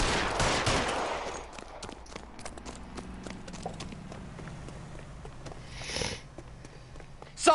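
Gunshots ring out in the L.A. Noire video game, sharp bursts over a low background hum, with a loud blast right at the end.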